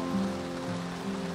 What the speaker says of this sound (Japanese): 外の雨音聞こえるでしょうか。